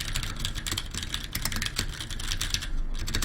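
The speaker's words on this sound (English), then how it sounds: "I do type quite heavily on my fingers. I'm a kind of person that always bottoms out, so that is the sound profile that I have for this." Rapid, heavy typing on a RedScarf 68 mechanical keyboard fitted with modded switches, each keystroke bottoming out in dense, clacky bursts that run continuously and close up, with no talk.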